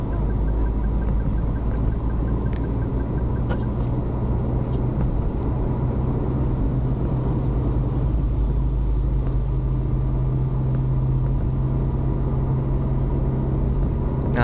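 A manual car cruising in fifth gear on a toll road, heard from inside as a steady low engine hum and road rumble with faint ticks and rattles, continuous and even without speech.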